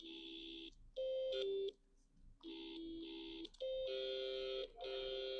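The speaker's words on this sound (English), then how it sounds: "That sounds like a phone tone." Bright, clean electronic beeps from a computer-coded music box, played as a sequence of steady held tones in short bursts with brief gaps between them, close and fairly quiet.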